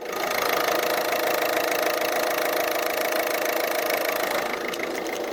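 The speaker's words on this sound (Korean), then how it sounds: "이제 마지막으로 엔진 소리 한번 들려드릴게요." A Peugeot car engine runs at a steady idle, a continuous close mechanical hum with an even, slightly knocking texture that holds at constant loudness throughout.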